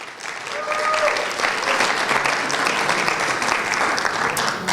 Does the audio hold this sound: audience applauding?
yes